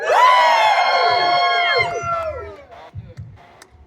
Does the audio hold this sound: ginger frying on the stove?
no